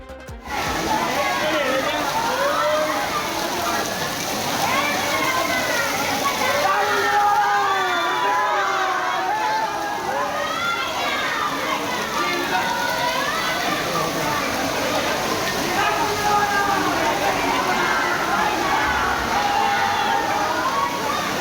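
Devotees wade through rainwater flooding Srirangam temple after a heavy summer rain. Steady sloshing and splashing continue throughout under a constant murmur of crowd voices.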